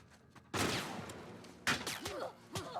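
Gunfire in The Last of Us: Left Behind video game, a few loud sharp blasts followed by ringing tails, close and dominant, with quieter game effects between shots.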